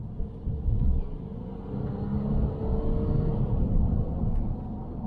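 A Jaguar XF Twin Turbo in sport mode pulls hard, giving a deep, steady engine rumble from inside the car that swells and eases slightly as it holds a gear, with no talk over it.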